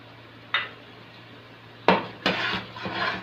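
Biryani masala stirred into a cooking pot, giving a few distinct metal clatters and scrapes of a spoon against the pot, one isolated knock followed by a busier cluster of scraping strokes, close and fairly loud with no talk.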